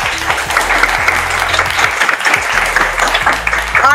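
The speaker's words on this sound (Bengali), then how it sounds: "হাততালি" A studio audience at a Holi special family game show claps loudly and steadily, a dense, sustained burst of applause with faint voices mixed underneath.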